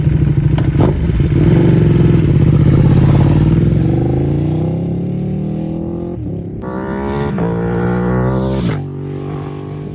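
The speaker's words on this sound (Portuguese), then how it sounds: "Reparem no espaçamento das combustões, são desiguais, isso nos dá o som embaralhado dos motores V2." A Ducati V2 motorcycle engine runs close by, its unevenly spaced combustions giving a loud, lumpy, throbbing beat that rises and falls with revs before dropping to a steadier idle.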